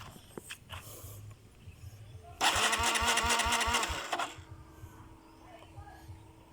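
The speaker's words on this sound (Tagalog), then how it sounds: "So subukan natin paandarin, no?" A car engine after an ECU reset cranks with a rapid starter whir, catches and runs loudly for about two seconds, then dies away into quiet background.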